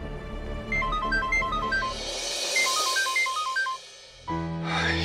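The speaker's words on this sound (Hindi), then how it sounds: "रोमी को ही ट्राई करती हूँ" Tones from a phone being dialed sound in a clear beeping sequence, then a second run of beeps, with a ringing tone starting at the end.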